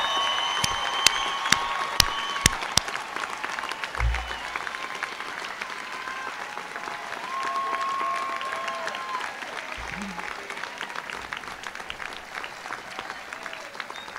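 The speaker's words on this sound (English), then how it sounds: "one last round of applause from the audience gathered in your honor" Audience applause for a graduating class at a Brazosport College commencement ceremony, a steady sustained wash of clapping from a large gathering with a few brief whoops and sharp nearby claps early on.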